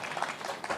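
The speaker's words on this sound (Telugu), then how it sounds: "ఒకసారి గట్టిగా చప్పట్లు కొట్టండి అమ్మకి" Brief burst of audience clapping at a devotional Hanuman Chalisa gathering, a moderately loud patter of many hands.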